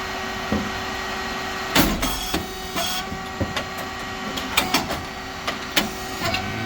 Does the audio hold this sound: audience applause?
no